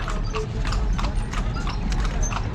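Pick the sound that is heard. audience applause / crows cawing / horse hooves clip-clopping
horse hooves clip-clopping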